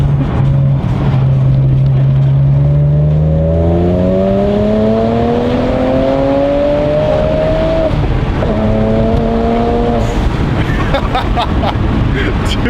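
A BMW E36 engine pulls hard through the gears from inside the car, rising tones climbing with each gear, brief dips at the shifts, loud and continuous over wind noise with a little talk.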